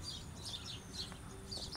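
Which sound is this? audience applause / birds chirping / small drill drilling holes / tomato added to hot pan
birds chirping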